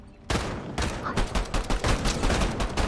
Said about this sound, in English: We're getting shot at from up top.